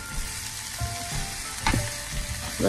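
Leeks, cabbage and Maldive fish sauté in a pan for a Batticaloa-style stir fry, with a continuous sizzle broken by stirring scrapes and clatter.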